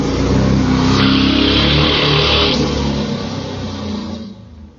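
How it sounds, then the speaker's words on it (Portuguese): Motorcycle with a blown exhaust revving loudly nearby, a harsh, raspy engine roar that swells, holds, then slowly fades away. "tivemos uma pequena interferência aí de uma moto com um escape aí estourado aqui próximo"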